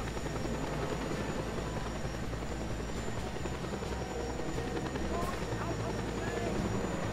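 A helicopter in the video game Just Cause 2 drones with a steady rotor roar throughout, loud and constant, with a voice talking over it.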